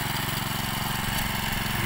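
Farm machine engine running steadily during field ploughing in Konkan, Ratnagiri, with a constant mid-pitched drone throughout, close by and with no talk.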